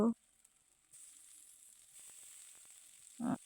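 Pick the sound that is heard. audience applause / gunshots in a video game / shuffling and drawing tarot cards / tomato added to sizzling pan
tomato added to sizzling pan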